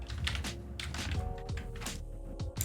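Computer keyboard keys tap in quick, irregular clusters of clicks and thunks as After Effects shortcuts are entered, close and clear with no voice over them.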